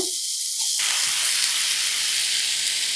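Grated coconut added to a hot pan and sautéed, a loud, steady broadband sizzle and hiss that starts abruptly and continues close and unbroken, with no speech.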